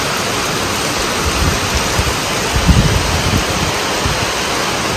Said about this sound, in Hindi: पूरा पीट पीट के बारिश हो रहा है